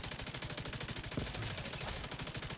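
Rapid automatic gunfire from the video game The Division 2, a steady fast stream of shots, fairly quiet and continuous with no talking.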